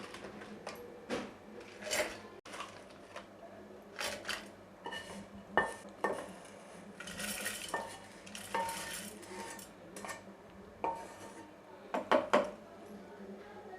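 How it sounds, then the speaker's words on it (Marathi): Spoon clinks and scrapes against metal as cooled, dry-roasted spice ingredients for a spicy misal curry are moved into a mixer grinder jar, with scattered, close, irregular clatter and no voices. "तर आता आपण ना या मिक्सरच्या भांड्यामध्ये काढून घेऊया।"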